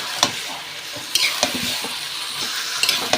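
Chicken meat sizzles in a hot pan as it is stirred, with scraping clinks of a utensil over a steady, close frying hiss.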